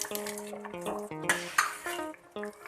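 A spoon stirring fried vegetables and spices in a metal pot for a Surati vegetable dish, with repeated ringing clanks and scrapes against the pot in an irregular rhythm and a faint sizzle underneath.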